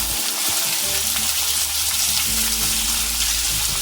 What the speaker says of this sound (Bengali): এবার আমরা পেঁয়াজ, কেটে রাখা পেঁয়াজগুলো দিয়ে দিচ্ছি।